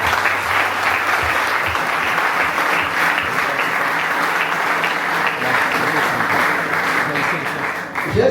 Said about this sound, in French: Je pense que ça mérite une grande acclamation,